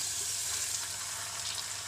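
Water is poured into sautéing tom yam spices in a hot pan, a loud continuous sizzle and hiss with no talk.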